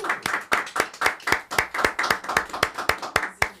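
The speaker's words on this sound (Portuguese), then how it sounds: "eu adoro essas palmas espontâneas" Spontaneous clapping from a small audience, with distinct sharp claps in a fairly regular rhythm, close and clear, a few hands slightly out of step.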